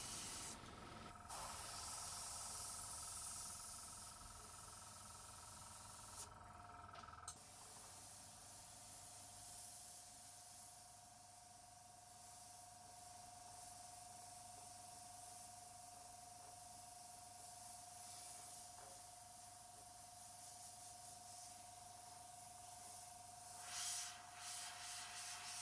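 A Border Model Black Flame airbrush with a 0.3 mm nozzle sprays in a steady broadband hiss that runs almost unbroken for the whole stretch, with a brief pause early on and faint steady tones underneath.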